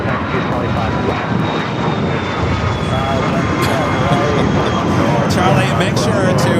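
Aircraft engines roar continuously at Los Angeles LAX airport, a loud, close, steady drone with a rising whine, while an air traffic control radio voice talks over it.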